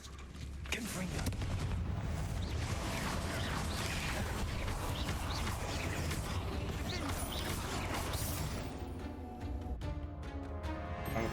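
Repeated blasting-spell explosions from the Confringo curse in Hogwarts Legacy boom through a dense, continuous battle din of crashes and bursts during a fight, with a voice speaking over the chaos.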